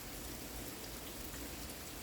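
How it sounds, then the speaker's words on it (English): Rain falling outdoors, a soft, even hiss of drops pattering on surfaces, faint and continuous for the whole stretch with no voices. "it is raining and the sun was out"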